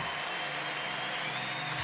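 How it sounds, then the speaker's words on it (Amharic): A church congregation applauding during a sermon, a steady, even wash of clapping that sounds faint and distant and carries on without a break. "ታላቅ ጭብጨባ እልልታ"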